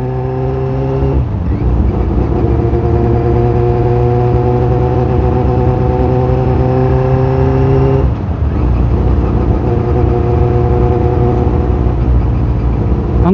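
A vehicle engine drones loudly and steadily on a night drive along a bypass road in Urdaneta. Clear revving climbs through the gears, with a brief drop in pitch before it builds again.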